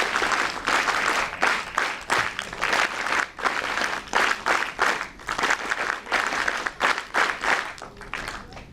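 Audience applause at a welcome ceremony for a National Integration Camp inauguration at NSUT Delhi: loud, dense clapping from a crowd, rising and falling in several bursts, close and continuous.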